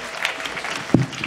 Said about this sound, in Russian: Вам бурные аплодисменты.